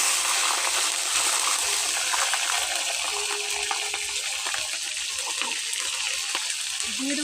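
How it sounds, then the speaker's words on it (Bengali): Green chillies fry in hot oil in a pan for khichuri, a loud continuous hiss and sizzle close by with a few faint stirring clinks. "দিয়ে দেবো কয়েকটা কাঁচা লঙ্কা"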